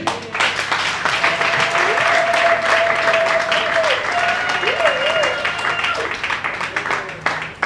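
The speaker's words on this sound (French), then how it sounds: "Est-ce qu'on peut applaudir?" At a political women's month closing event, the crowd breaks into sustained applause, loud dense clapping lasting several seconds while a voice carries on speaking over it.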